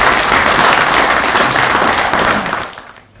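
Members of Burkina Faso's National Assembly applaud in the chamber to approve the commission lists, a loud burst of clapping that holds briefly, then fades quickly to quiet.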